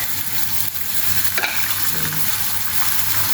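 Two finely chopped onions fry in hot oil in a pan, giving a loud, steady close-up sizzle with a faint stir or scrape midway.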